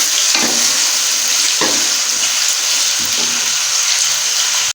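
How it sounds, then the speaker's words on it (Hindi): Chicken pieces roasting in a hot pan for Afghani Kabuli pulao, giving a steady loud sizzle with periodic stirring scrapes, near and alone with no talking. "चिकन को आपने अच्छी तरह से बीच में कुक करना है, अच्छी तरह से रोस्ट करना है"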